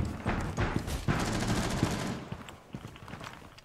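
Rapid bursts of gunfire in Rainbow Six Siege ring out in dense, loud volleys for most of the moment, then thin out into scattered shots toward the end.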